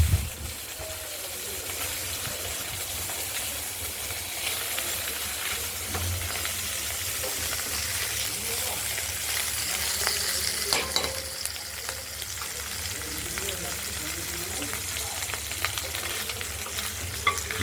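Small mourala fish frying in hot oil in a pan make a constant, loud crackling sizzle, with occasional scrapes and bubbling through to the end.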